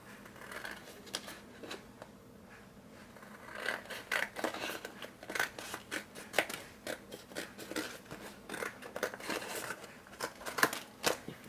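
Scissors cutting straight across paper while making a party table centerpiece: steady crisp snipping strokes, close and fairly quiet, a regular series of cuts with no talking.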